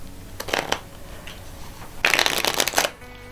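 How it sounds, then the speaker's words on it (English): A spectator shuffles a deck of playing cards by hand in short bursts of crisp riffling and flicking, first a brief flurry, then a louder, denser run close to the microphone. "They'll probably do an overhand shuffle."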